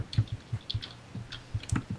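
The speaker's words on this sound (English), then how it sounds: "You probably just hear me mashing my keyboard right now to jump" Computer keyboard keys mashed repeatedly to jump in Minecraft, giving faint, quick, irregular clicks and taps close by, with no talking.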